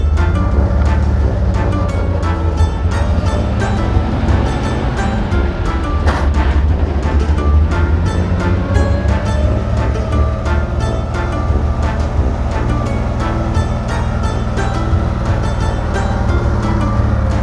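A GAZ 51A truck driving with no working brakes, its loud, continuous engine rumble and road noise droning steadily throughout with no talking.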